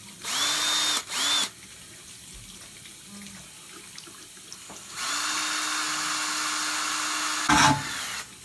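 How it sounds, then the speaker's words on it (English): A power drill with a 32 mm hole bit whines steadily while drilling glass in two bursts, a short one then a longer sustained run, with water trickling and faint handling noises between. "32 millimeter drill bit. I'm just gonna drill into the sucker."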